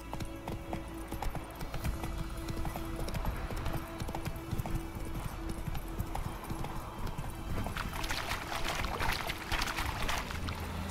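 Horse hooves clip-clopping at a steady trot in the video game The Witcher 3: Wild Hunt, a continuous rhythmic clatter of hoofbeats with a brief whinny, mixed with in-game ambience and a rushing, watery wash toward the end.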